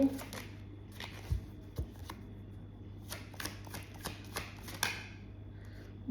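Tarot cards shuffled for a reading, a series of soft riffling and tapping bursts at close range over a low steady hum.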